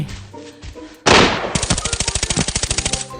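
Automatic gunfire from the shooter game Arena Breakout: a single loud shot, then a rapid, steady burst of evenly spaced rounds that is close and dominant, with no talking.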